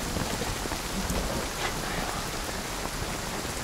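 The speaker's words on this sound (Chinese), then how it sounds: "下这么大雨" Heavy rain pours steadily at night on a slippery road during a landslide rescue, a dense, unbroken hiss of falling water with no voices.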